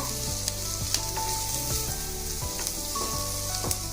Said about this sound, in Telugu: వీటిని దోరగా వేగనిద్దాము